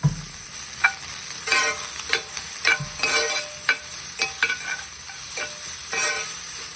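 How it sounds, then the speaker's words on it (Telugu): A spoon scrapes and stirs food in a hot pan, with a steady sizzle of frying and regular clinks of utensil against metal. "క్యారెట్ ముక్కలు వేసి బాగా మిక్స్ చేసుకోవాలి"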